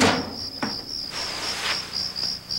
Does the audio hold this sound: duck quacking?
no